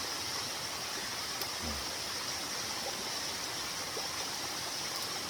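Rushing stream and waterfall on Palgongsan, swollen after days of rain, a steady broad wash of water noise, even and continuous throughout with no talking.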